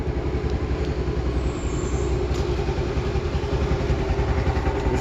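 A five-year-old, freshly serviced TVS Jupiter scooter idles close by, a steady low rhythmic engine putter with slight mechanical clatter, running alone without talk.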